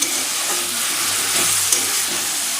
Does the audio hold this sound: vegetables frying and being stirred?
yes